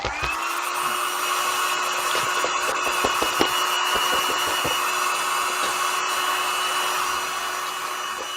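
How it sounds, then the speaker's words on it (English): A hair dryer blows steadily to dry paint on a sheet of paper while making a zine, its constant whirring drone lasting the whole stretch with a few faint clicks and taps, no talking. "I'm going to use my hair dryer to dry some of this because it's never going to dry."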